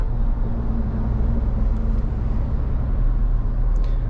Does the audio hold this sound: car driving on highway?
yes